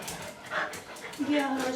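Close dog whimpering in a short, high, wavering whine, with soft panting breaths around it, heard as dogs are taken home; people talk nearby.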